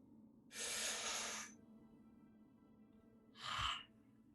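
Two close, breathy exhalation-like sighs of a person breathing deeply: a long airy rush followed after a pause by a shorter one ending in a low puff, with no talk.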